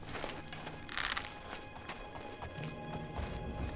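Horse hooves clip-clop on the ground in the video game Oblivion, quiet and irregular, with a brief whinny-like cry mixed into the game's background sound.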